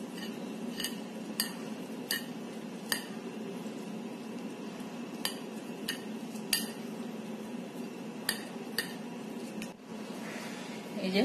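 A fork shreds cooled cooked chicken meat for a sandwich: irregular sharp clinks and scrapes of metal on a plate, spaced a second or so apart, over a soft steady background.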